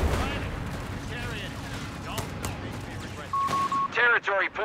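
Gunfire in a Company of Heroes 3 battle: scattered shots and booms over a constant battle din, with a short burst of rapid fire toward the end, heard beneath steady commentary.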